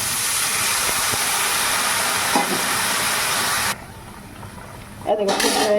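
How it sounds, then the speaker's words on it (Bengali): Water is poured into simmering mango chutney with salt and turmeric in a pan, making a loud steamy hiss and bubbling that cuts off abruptly and then returns briefly, with a voice speaking over it. "অল্প জল দিচ্ছি"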